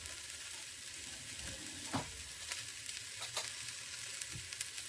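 Cauliflower sizzles and frying spices are stirred in an Instant Pot, a steady close hiss broken by a few scraping knocks of the spoon.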